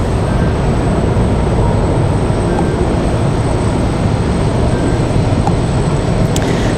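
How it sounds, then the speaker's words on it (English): A Washington Metro train passes near Dulles airport as a loud, steady rumble that holds unchanged for several seconds, with no talking over it. "Goes our metro."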